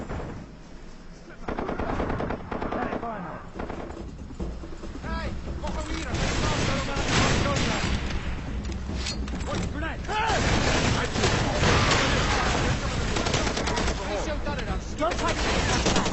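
A firefight in Far Cry 2 at a guard post, with rapid machine-gun bursts and repeated gunshots crackling loudly and almost without a pause, while a voice talks over the shooting.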